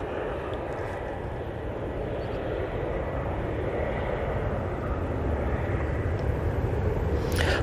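An airliner departs Manchester Airport for Amsterdam Schiphol, heard as a fairly faint, continuous engine rumble from a distance that builds slightly toward the end.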